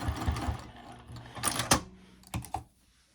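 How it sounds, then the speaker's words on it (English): A sewing machine runs a few short bursts of basting stitches through fabric for a wristlet clutch, with quiet handling between the brief whirring runs. "I'm just going to go ahead and stitch these together. Just baste it together"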